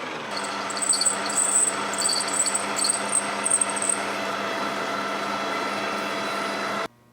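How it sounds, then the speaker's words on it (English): A steady machine whine of a 29/64 drill bit boring through metal, with high squealing chatter early on, running continuously before cutting off abruptly. "I'm going to come in with a 29/64 drill bit and just clean up that hole"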